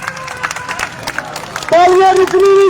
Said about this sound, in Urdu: تالیاں رکنی نہیں چاہیے جب تک حافظ صاحب اپنی بات کا آغاز نہ کریں